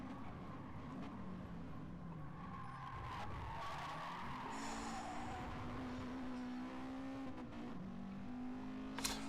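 Race cars in GT Sport on the Austria circuit, engines droning steadily with shifting pitch as they brake and accelerate through corners, tyres skidding and squealing throughout, a continuous close roar with no voices.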